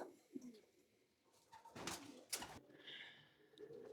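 Pigeons in a loft give soft, faint coos, a few brief calls spread across a quiet background with no talk.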